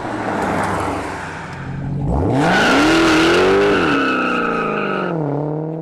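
A 2019 Dodge Challenger Hellcat Redeye with its supercharged engine revs up hard, a loud rising roar with supercharger whine sweeping upward, holding high, then easing to a lower drone, close and alone.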